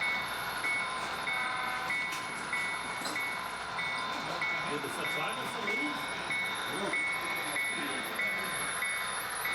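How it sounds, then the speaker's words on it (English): A digital diesel locomotive sound plays from a model railroad engine on a layout, a faint steady engine drone with a repeating electronic tone, while people talk over it. "The sounds are all contained in the engine, all digital, and controlled through the speed of the train, the throttle, and various switches that the controller throws"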